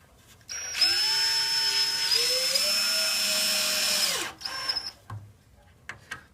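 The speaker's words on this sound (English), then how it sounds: "Please note the screws are in at a slight angle to prevent the screw gun from hitting the back support." A cordless screw gun drives screws into the back of a wooden chair during assembly, one sustained whirring run of about three and a half seconds that rises in pitch, then stops, followed by a few faint knocks and handling sounds.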